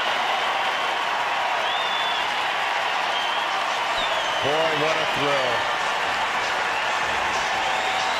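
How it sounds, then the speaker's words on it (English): A major league baseball crowd applauds and cheers in a steady, loud wash of clapping, with a commentator talking over it. "Look at the crowd respond to him."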